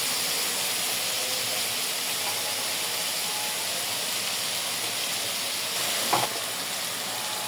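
Cumin-coriander paste, dried chilli paste, chilli and turmeric frying in a pan, a steady broad sizzling hiss that holds evenly throughout with a brief knock near the end.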